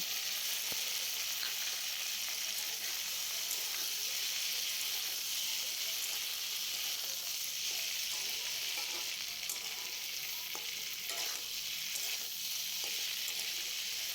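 Ground poppy seed paste fries in a pan for papaya and hog plum chutney, giving a steady close sizzle with occasional stirring scrapes, even and unbroken throughout, with no talking.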